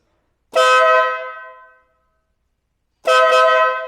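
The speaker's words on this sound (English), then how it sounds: "Air horn system. This one will speak for itself." Two loud, sustained blasts from an air horn on a 2025 Ural Gear Up motorcycle, the first about a second long and fading, the second starting after a pause, blaring close by with no talking.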